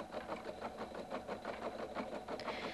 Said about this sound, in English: Your designer 1 will automatically embroider the first color, in this case, the light green leaves